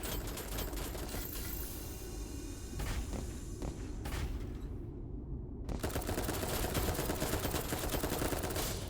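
Rapid bursts of submachine gun fire in a video game, a loud dense rattle running through most of the stretch with a short gap near the middle, alongside footsteps and busy game noise.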